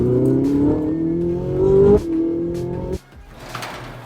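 Ferrari 458 Italia driving at sunset, engine note rising steadily as it accelerates through gears with brief shifts, loud and close, then dropping away to quieter road noise at the end.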